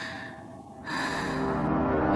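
A woman catches her breath with a short sharp gasp, followed by heavy breathing, close and fairly quiet, with no words.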